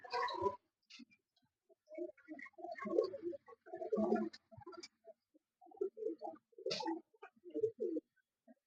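Pigeons brought from Delhi coo in short throaty bursts, several overlapping calls close by with brief pauses between, fairly soft against a quiet background.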